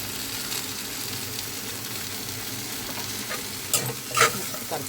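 Punarnava greens and moong dal fry in a pan with salt and chili, giving a steady close sizzle with a few quick spatula scrapes near the end.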